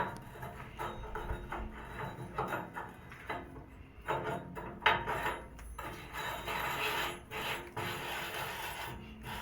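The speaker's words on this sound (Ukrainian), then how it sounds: "Різьбу почистили, вкручуємо філеру на 5 беремо середню." A metal die, size 5, is screwed by hand into the cleaned threads of an extruder head, giving a steady run of close mechanical clicks, scrapes and ratcheting knocks with no talk.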